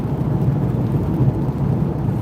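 Rain falling at night outdoors, a steady dense hiss with low rumble, continuous and fairly loud throughout.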